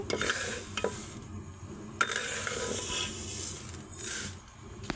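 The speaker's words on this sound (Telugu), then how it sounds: "స్టవ్ మీద మెంతులు వేయించుకుంటున్నాను" Fenugreek seeds roasting dry in a pan on the stove, with repeated scraping stirs and light rattling of seeds against metal in bursts, close and moderately loud, no voices.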